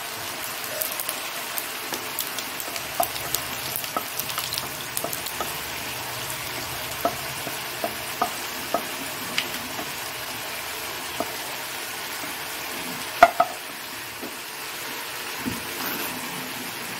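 Cumin and dried red chillies frying in a kadai, a low steady sizzle broken by scattered sharp pops and crackles, close and alone without talk.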